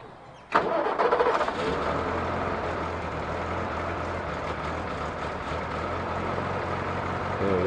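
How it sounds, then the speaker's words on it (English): Small motor on the side of a Chevrolet water truck cranks and catches, then settles into a steady, fairly loud idle rumble that runs on alone. "A little motor down the side there, you folks run up a look at the motor there."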